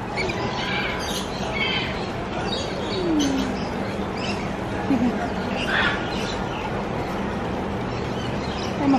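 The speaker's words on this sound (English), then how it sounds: "Not rushing, we're enjoying some lorikeets now." Lorikeets at a zoo aviary, including a blue-streaked lory, give scattered squawks and chirps over a busy crowd background, with people talking nearby.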